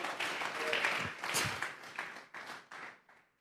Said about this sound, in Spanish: Vamos a regalarle ofrenda de palmas al Dios de experiencias puramente de ellos